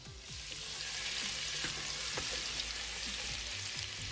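Steady, dense sizzling of chopped garlic frying in hot oil for baingan bharta, loud and continuous throughout with no voices.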